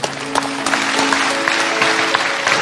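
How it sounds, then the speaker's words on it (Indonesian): A church congregation applauds in praise of God during a sermon: loud, close, sustained clapping with some sharp individual claps standing out, over a steady hum of background tones. "Kasih tepuk tangan untuk Tuhan."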